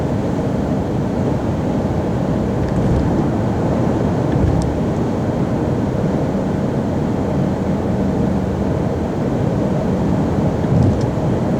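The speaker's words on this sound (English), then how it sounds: "The road noise at 70 miles an hour still doesn't sound loud at all." Constant low road and wind rumble inside a 2014 Ford Escape Titanium cruising at 70 mph on a highway, even and unbroken, with no voices.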